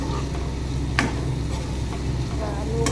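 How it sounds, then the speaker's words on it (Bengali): Potatoes and potol frying with spices in a pan, a steady close sizzle with a few soft stirring scrapes and taps over it. "আলু পটল মশলা একসাথে ভালো করে ভেজে নেব"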